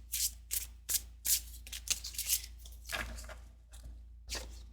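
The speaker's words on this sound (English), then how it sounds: "I'm going to shuffle in between just." A tarot deck is shuffled by hand in quick repeated riffles and soft rustling bursts, close and fairly quiet.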